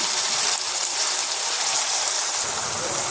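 Soaked rice poured into a biryani pot without water, a continuous rain-like patter of wet grains cascading in, close and fairly loud throughout.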